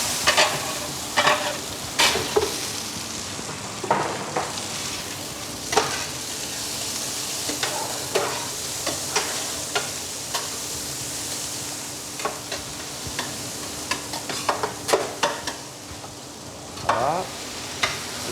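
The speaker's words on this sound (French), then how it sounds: "On va faire rissoler les oignons" Onions sauté in a pan with a constant bright sizzle, broken by repeated scrapes and knocks of a utensil stirring at irregular intervals, close and fairly loud, no speech.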